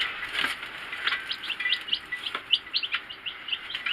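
Chickens in a backyard garden bed give a run of rapid, high, close peeping chirps, one after another in an uneven rhythm, with no voices.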